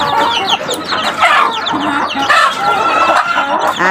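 Young chicks feeding on boiled egg mixed with cooked feeds: a dense, loud chorus of overlapping peeps and clucks fills the whole stretch without pause.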